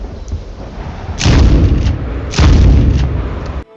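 Two heavy booming blasts from an explosive frag-round shotgun in Medal of Honor (2010), each a loud close thump with a rolling tail, about a second apart.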